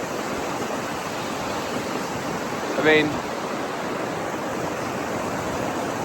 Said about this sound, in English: it's the splash off this waterfall